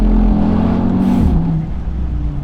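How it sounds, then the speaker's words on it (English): An Audi TT RS Roadster, 2019, driven on mountain roads in the Swiss Alps, revs loudly as the engine note drops through a downshift, a steady close engine roar with a brief whoosh and pitch change midway, no talk. "At lower revs, it does sound nice on the downshifts."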